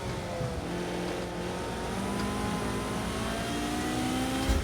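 Ferrari F40 in Project Cars 2 at the Les Essarts track, its engine droning steadily and rising in pitch through the gears, a continuous mid-loud rev heard from inside the car with no talking.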